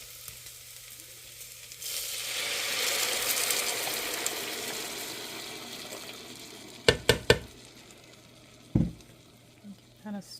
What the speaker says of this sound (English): now that we have our onion sauteed, looking yummy, we're going to go ahead and pour in our sauce.